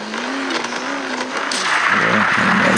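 A race car engine in the video game Racing Xtreme 2 holds a steady drone, then rises into a louder rev with a hint of tire noise, with no talk.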